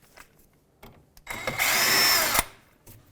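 Power tool, likely an impact driver or drill, runs in a loud sustained burst of about a second while reinstalling a jam nut on the tie rod of a 2003-2007 Nissan Murano, preceded by brief handling clatter.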